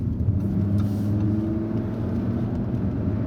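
A sports car's engine accelerates steadily, a loud, dense low-pitched roar that holds throughout without speech.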